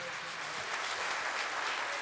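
An audience at a folk music show at the Spiru Haret high school applauds, a dense, steady clatter of many hands clapping, with a voice faintly under it.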